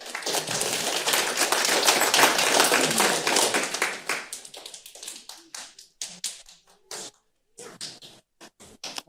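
Audience applause at a parks and recreation advisory board meeting, a dense burst of clapping that swells over the first four seconds, then thins into scattered individual claps that trail off into near silence.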